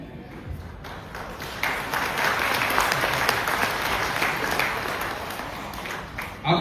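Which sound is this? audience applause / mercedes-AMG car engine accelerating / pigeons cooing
audience applause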